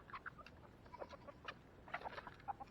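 Chickens cluck softly and continuously nearby while eating goat feed, with scattered overlapping calls and faint background rustle.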